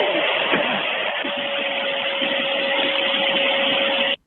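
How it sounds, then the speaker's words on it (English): A vacuum cleaner runs steadily and fairly loud for about four seconds, a continuous broadband whine with a thin sustained tone, then cuts off abruptly. "Someone's vacuuming. Did it sound like a vacuum cleaner?"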